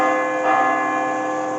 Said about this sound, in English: ring that little bell